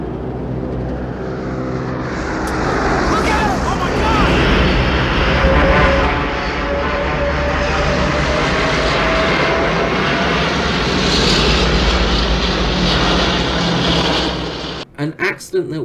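A propeller bomber drones steadily in flight through a heavy cloud bank, a loud, sustained engine roar with a faint rising hum, cutting off abruptly near the end.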